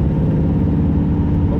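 A 1967 Firebird or 1970 C10 V8 engine running, a loud, steady, deep rumbling drone throughout with no clear rev changes and no voices.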